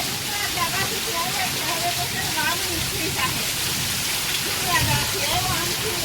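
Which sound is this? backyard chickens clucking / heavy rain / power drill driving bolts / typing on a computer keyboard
heavy rain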